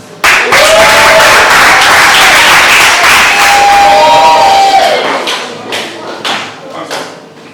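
An audience at a poetry event bursts into loud applause with some cheering after a poem, the clapping swelling quickly, holding strong, then thinning into scattered claps as a voice speaks over it.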